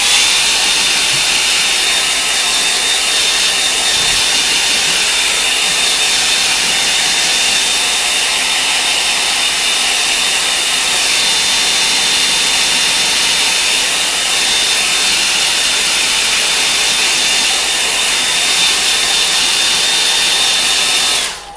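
A hair dryer blows steadily to dry a line-and-wash painting on sanded paper, a loud continuous whoosh that runs unbroken for about twenty seconds and cuts off at the very end.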